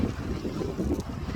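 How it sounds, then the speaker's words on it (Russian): Icy wind gusting along the Black Sea shore at Kudepsta in Sochi, a steady rushing roar buffeting the microphone with no talking. "действительно леденящий ветер"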